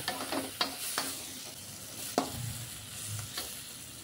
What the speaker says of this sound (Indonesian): Kita tumis pelan-pelan supaya bumbu matang dengan tanah ya